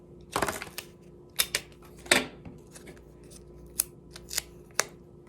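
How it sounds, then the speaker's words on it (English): Paper craft leaves are taped onto a stem: sharp tearing and snipping bursts come at irregular intervals, close and crisp, with quiet pauses between. "And we'll just tape our leaves right on here on our stem."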